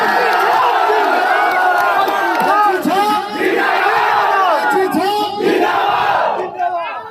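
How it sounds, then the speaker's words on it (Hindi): Dense election-rally crowd in Karakat, Bihar roaring, whooping and chanting slogans in loud continuous waves, with shouted voices rising and falling throughout and no pause. "एक एक इंसान हाथ उठा के ताली बजा के कैची छाप जिंदाबाद करना चाहिए"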